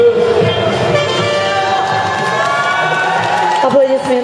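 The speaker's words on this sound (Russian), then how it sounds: "Аплодисменты танцевальным дуэтом" An audience at a Latin ballroom dancing competition claps and cheers loudly for a dance duo, with whoops and shouts riding over sustained applause while music fades beneath.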